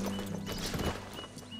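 Horse hooves clopping in Red Dead Redemption 2, a few soft, close thuds on the ground over steady game ambience, with a faint tonal hum underneath.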